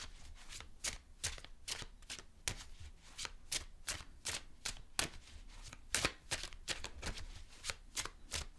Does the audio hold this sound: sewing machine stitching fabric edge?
no